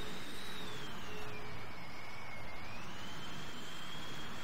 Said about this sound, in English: you can hear the RPMs of the engine massively rise every time I activate the boost